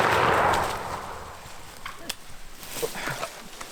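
A loud hunting gunshot booms at the start, then decays into outdoor ambience with faint rustles and a few small knocks, and no talking is heard.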